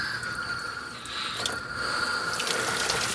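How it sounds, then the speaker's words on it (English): Water hisses steadily as it drains out of a Pentair DE pool filter tank to release pressure, a continuous close rushing flow with a faint mechanical rattle partway through. "So just going to let the water drain out real quick."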